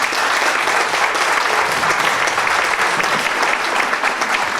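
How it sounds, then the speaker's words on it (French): Steady, loud applause fills a French poetry event as an audience claps for poet Ben Mohamed, dense and continuous with no pauses. "Allez, un grand applaudissement à Ben."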